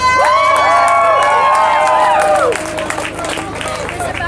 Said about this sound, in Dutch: Graag nog een hartelijk applaus voor Jelte en geniet van de band.